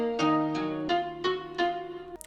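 A nylon-string guitar sample with Gross Beat and stereo shaper effects: short plucked notes in a steady pulse, five attacks with gated, chopped sustain, fairly soft.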